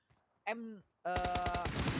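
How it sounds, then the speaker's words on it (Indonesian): Rapid burst of automatic gunfire in a PUBG Mobile esports match, a dense repeated volley of loud close shots lasting about a second after a brief harmonic tone, with no talk. "tembakan akan segera dilakukan"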